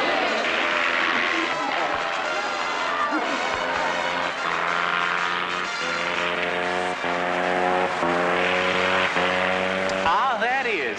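A sputtering propeller airplane with a coughing engine drones steadily and loudly overhead in a Korean War army camp setting, its rough pulsing tone continuous throughout.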